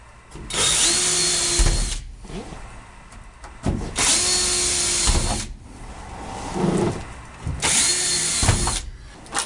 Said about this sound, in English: we're going to drill and screw.